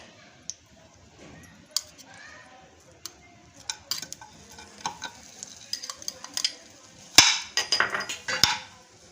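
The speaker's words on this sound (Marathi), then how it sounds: "आता आपण खजूर थोडंसं तूप टाकून मऊ करून घेणार आहोत" Scraping and tapping of a spoon stirring dates in ghee in a pan over a soft sizzle, irregular knocks growing louder toward the end.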